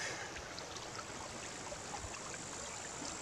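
A creek flows steadily with a continuous soft babble and splash of moving water, close by and unbroken, with no voices.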